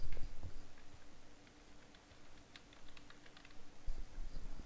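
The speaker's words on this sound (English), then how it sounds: "Now I'm going to type it manually." Typing on a computer keyboard, a run of soft irregular key clicks, close and quiet with no voices.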